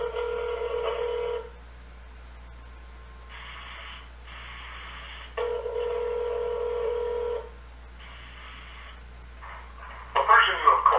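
Telephone dialing tones sound while calling someone: bursts of steady tone switch on and off in a regular pattern, loud and close, with a short garbled burst at the end.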